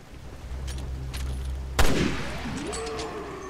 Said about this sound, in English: That was a waste of a sniper shot.